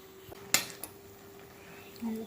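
A spoon stirs chopped taro leaves and beans in a cooking pot, giving a couple of sharp metallic clinks and a soft scrape, quiet and alone.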